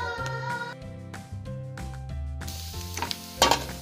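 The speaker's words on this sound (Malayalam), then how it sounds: "ഇനി അതിലേക്ക് കറിവേപ്പിലയും ചേർത്ത് നമുക്ക് ഈ ഒരു കൂട്ട് നമ്മുടെ ബാജിക്കറിയിലേക്ക് ഒഴിച്ച് താളിച്ചെടുക്കാം" Curry-leaf tempering in hot oil poured into a Kerala-style baji curry of potato and carrot, giving a bright crackling sizzle that flares loudly near the end over steady background music, with no talk.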